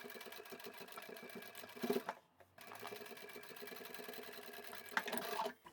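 A sewing machine stitches along the stabilised edge of a scrap-fabric glasses pouch, running quietly and steadily with a short pause midway and a few small clicks near the end.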